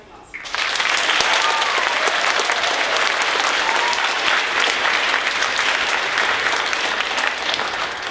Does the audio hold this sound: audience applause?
yes